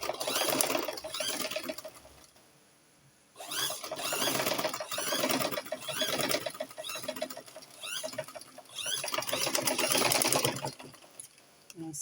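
A sewing machine stitches a princess dart on a garment in several close bursts of fast, rattling needle clatter, with short pauses between runs.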